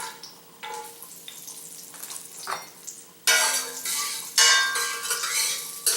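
Whole cloves, anise and cinnamon sticks dropped into a hot pan for a mushroom and green peas gravy. Soft clinks and stirring come first, then two loud bursts of crackling sizzle erupt close by and keep hissing, with no talking.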